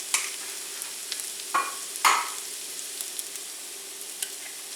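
Eggs crack into a skillet of vegetable slaw with shredded cabbage, a steady soft sizzle punctuated by a couple of sharper cracks and spatters, close up and without talk.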